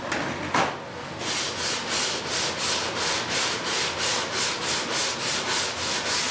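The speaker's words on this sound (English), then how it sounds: "It just sands right off, man." Sandpaper rubs paint off a model jet fuselage in quick, even back-and-forth strokes, a dozen or so rhythmic scratchy swishes heard up close and alone.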